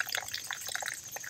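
Water drips and trickles from an automatic drip irrigation line at a loose connection, a close, steady patter of small droplets with no talking.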